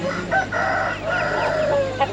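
A rooster crows nearby at a busy poultry market in Kastamonu, Taşköprü, one drawn-out crow over a steady crowd and market hum.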